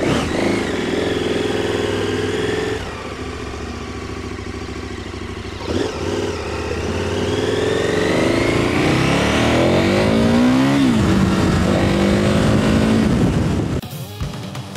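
A 2015 KTM Super Adventure motorcycle being ridden, its engine droning loud and close, then climbing through revs with rising pitch as it accelerates and shifts, steady throughout with wind noise.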